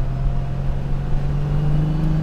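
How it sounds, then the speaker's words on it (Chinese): A Toyota Supra's 3.0-litre six-cylinder engine drones steadily at a near, loud, even pitch, with no voices and no change in revs throughout. "听听那个六缸的声音"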